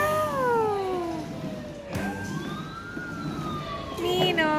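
A small child imitates a toy fire truck siren with a rising and falling wail that sweeps up and down in long vocal glides, close and alone, with an adult voice briefly between the calls.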